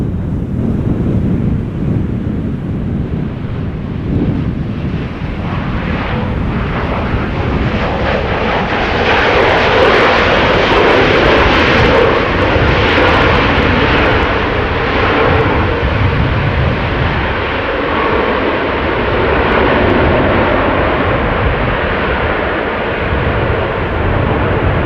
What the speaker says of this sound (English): when they do apply the reversers, those MAX 8s also have a nice loud sound